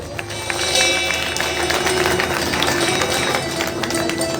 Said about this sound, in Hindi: और हमारे देव लालवानी जी के लिए भी जोरदार तालियां बजाइए।